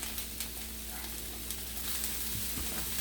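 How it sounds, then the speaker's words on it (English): Broccoli sautés over medium heat in a pan, giving a continuous, even sizzle with light crackles throughout and no voices. "throw that broccoli in there and let that saute down a little bit"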